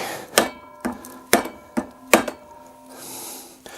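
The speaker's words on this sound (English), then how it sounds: "we're going to take our ball peen and give him a smack" Ball peen hammer striking a piece of wood to seat a bearing held in a vise, five sharp, close knocks at irregular intervals, followed by a faint ringing tail.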